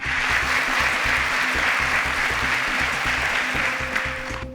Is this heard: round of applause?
yes